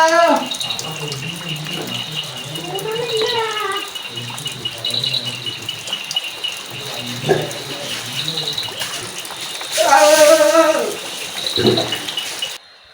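Cold water splashing and pouring during a bath on a rainy day, bursts of gushing and rattling close by, with a voice talking intermittently over it.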